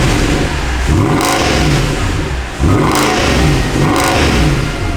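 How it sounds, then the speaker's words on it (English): A wrecked Mercedes E63 AMG engine revs hard in repeated bursts, the roar dropping briefly between pulls, loud and close with a gritty rumble. "Let's give it a rev."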